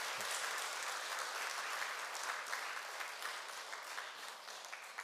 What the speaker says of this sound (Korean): 우리 응원의 박수